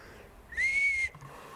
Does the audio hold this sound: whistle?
yes